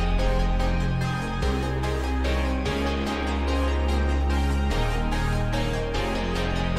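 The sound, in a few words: ambient synth melody with reverb and delay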